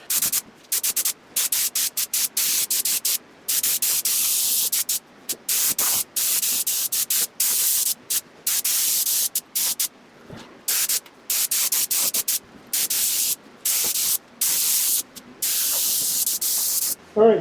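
A spray gun lays color and clear coat onto a Datsun 280Z. It gives loud, close bursts of hissing spray, triggered again and again in quick passes with short gaps between them.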